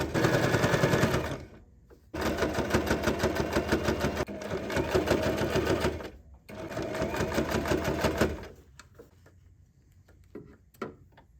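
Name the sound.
sewing machine top stitching tote bag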